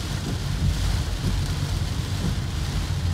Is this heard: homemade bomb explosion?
no